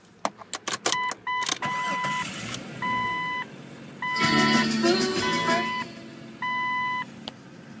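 A lifted Jeep Cherokee XJ gives a run of repeated electronic warning chimes, then a brief starter crank as the engine catches and fires, with more chimes sounding around it.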